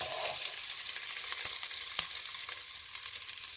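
Onion chars on a hot stovetop for chicken consommé, a steady loud close sizzle with faint scraping stirs and no talking.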